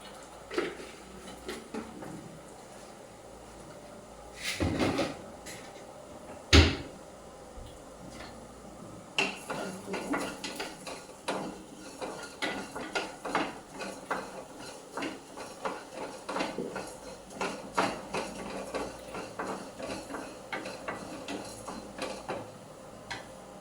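Coriander seeds being dry-roasted for idli podi rattle and scrape as they are stirred in a pan, with irregular clicks and clatters that grow denser and steadier over the second half.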